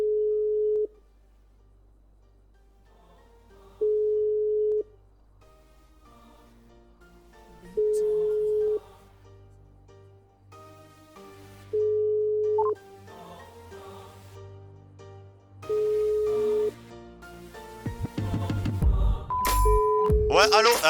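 An outgoing phone call rings five times, each a steady electronic tone about a second long with even gaps and quiet voices underneath. Louder, rustling noise follows at the end.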